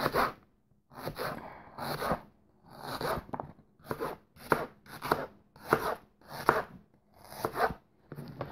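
An onion sliced with a knife on a board, giving a rhythmic series of about a dozen crisp, close cuts spaced roughly half a second apart, with no talking.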